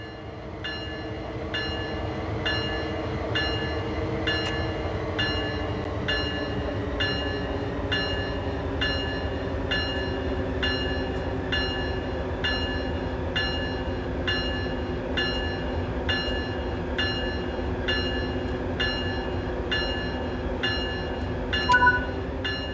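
An SD40-2 diesel locomotive in Train Sim World 3 drones steadily and continuously, a low engine rumble with a regular ticking pulse running through it and no pauses.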